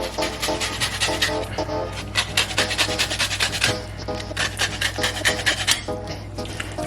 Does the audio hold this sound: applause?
no